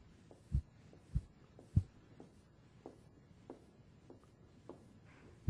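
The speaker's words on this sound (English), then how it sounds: "let me draw my grid" Marker or chalk strokes draw a grid on a board during a lecture, heard as faint scratchy swipes with a few louder taps at regular intervals in a quiet room.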